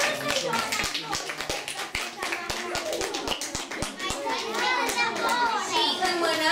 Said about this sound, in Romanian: Îl aplaudăm pe Cristian!